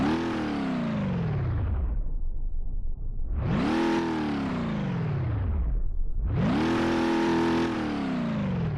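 A simulated car engine in BeamNG.drive revs hard three times, each surge climbing steeply in pitch and then falling back to a low idle, loud and close with nothing else heard.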